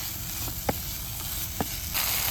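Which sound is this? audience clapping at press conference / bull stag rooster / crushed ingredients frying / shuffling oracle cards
crushed ingredients frying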